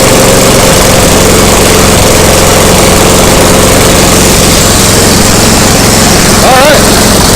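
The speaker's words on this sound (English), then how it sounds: "this is what a Briggs sounds like without a muffler." A Briggs small engine runs without a muffler, a loud, raw, steady blatting drone close to the microphone that holds constant for several seconds.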